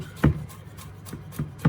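A knife chops garlic on a cutting board in a few quick, sharp taps, close by and fairly quiet, with an uneven rhythm.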